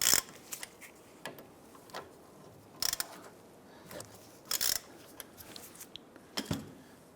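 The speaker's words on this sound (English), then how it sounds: "Using a 14mm socket, go ahead, loosen and remove the 2 caliper bolts." A 14mm socket ratchet loosens the two rear brake caliper bolts on a 2008-2013 Nissan Rogue, heard as sharp metallic clicks and cracks in several separate bursts. Quiet handling noise fills the gaps, with no talk.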